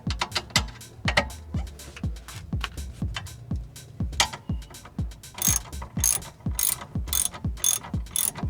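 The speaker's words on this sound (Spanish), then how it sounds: "Aquí ya apretamos el tornillo y ya está listo nuestro amortiguador nuevo." Ratchet tightening a shock absorber bolt on a Chevrolet Spark, producing a long run of rapid, evenly paced clicks up close, loud and alone without speech.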